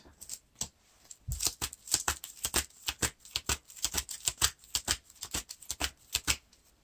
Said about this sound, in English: That shuffles it back into the deck.